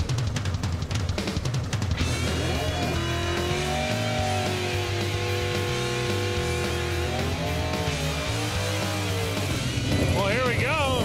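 A 1959 Chevrolet Corvette on a drag racing run, a loud engine roaring and rising through the gears, pitch climbing and dropping, with an announcer's voice over it.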